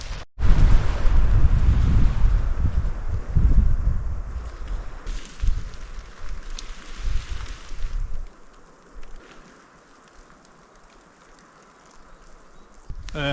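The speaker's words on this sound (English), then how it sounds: "The wind was really strong, and yeah, it kept me awake pretty much all night" Strong night wind buffets a tarp shelter on the Hakkenpää Laavu trail in southwest Finland, heavy roaring gusts hitting the microphone, then easing to a lower rush with quieter lulls.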